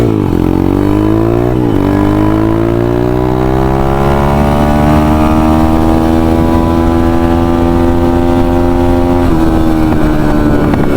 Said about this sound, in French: Allez, toujours les retours de flamme